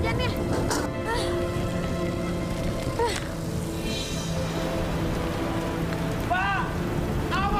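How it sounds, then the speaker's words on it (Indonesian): Heavy rain pours steadily on a surface, a dense constant hiss with splashing, while a voice speaks and other indoor sounds break in now and then. "Deras banget lagi hujannya."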